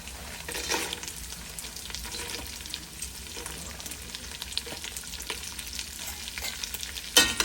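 Peeled almonds and cashews sauté in an oiled pan, giving a quiet, steady sizzle broken by scraping stirs, with a sharper clatter near the end.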